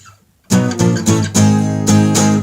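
Loud, close guitar strikes a short tab riff after a half-second of silence, with a few ringing strummed chords that sustain at the end.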